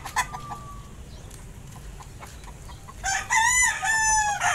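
A rooster crows loudly near the end, a long harmonic cock-a-doodle-doo after a few quieter clucks and scattered clicks, as its comb is being trimmed.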